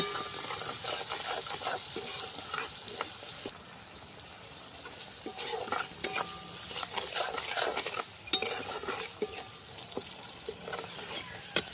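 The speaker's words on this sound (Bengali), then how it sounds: "চিনি দেওয়ার পর একটু ভালো করে নাড়াচাড়া করে নেব।" Pabda fish curry with tomatoes being stirred after sugar goes in, steady close scraping of a spoon against the pot over a soft sizzle, with occasional clinks of metal.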